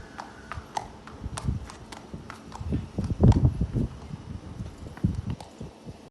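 A racehorse walks on the farm-side yard of Tim Easterby's Yorkshire stables, its hooves clip-clopping in an uneven, moderately close rhythm, with scattered outdoor noise around the steps.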